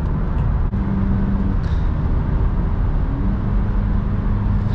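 Steady, dense engine and road roar from a tuned Volkswagen Caddy with 190 horsepower and a six-speed gearbox, heard from inside as it accelerates hard, continuous and loud with no breaks.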